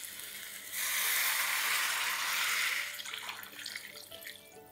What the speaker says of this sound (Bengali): আর যখনই দেখবেন এটা খুব ভালোভাবে কষানো হয়ে গেছে তখন এখানে জল দিয়ে দিন।